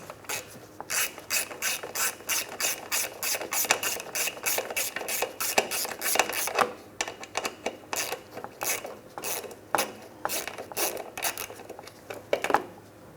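A hand ratchet backs out a 10mm mounting bolt on a Mitsubishi Outlander splash shield, rapid clicking strokes repeating close and loud, slowing near the end.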